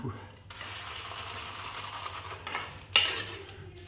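Shaving cream being lathered in a copper shaving bowl, a steady wet swishing and stirring close by, with a brief louder scrape near the end.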